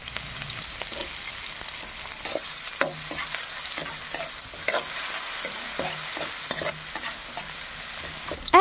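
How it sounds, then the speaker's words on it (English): Garlic, ginger and onion sauté in a pan for a Filipino pancit bato dish, a steady loud sizzle running throughout with repeated spatula scrapes and stirring clacks, no voices present. "Saute garlic, ginger,"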